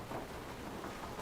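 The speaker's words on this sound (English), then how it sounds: "Steven goes outside, and it's like, it's just rain." Cartoon rain from a Steven Universe scene, a soft, steady wash of falling rain with a low rumble beneath, faint and even, with no voices.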